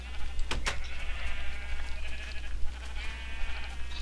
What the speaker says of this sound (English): Those sheep, they actually do look golden.